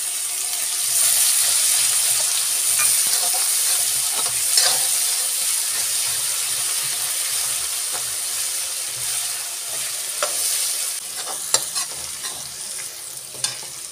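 Chopped onion sizzles steadily in hot spiced oil while being stirred, with continuous frying hiss and scraping clinks of the spoon, close and alone.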